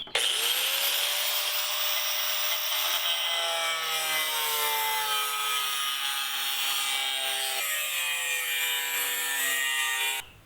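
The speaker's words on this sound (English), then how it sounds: "Now I'm going to use my angle grinder, of course with safety glasses, mask, and ear protection, to cut this line here." An angle grinder cuts a line through wood fascia trim in one loud, sustained whining pass, its pitch sagging slightly under load before it trails off at the end.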